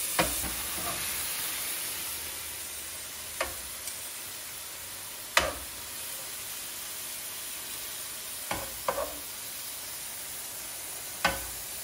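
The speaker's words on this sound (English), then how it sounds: "We're just warming it through, adding that real beautiful essence of garlic." Garlic warms in a pan beside meatloaf and Parmesan potatoes, giving a soft, continuous sizzle. Occasional sharp clicks and taps from utensils break through it at close range, and no one talks.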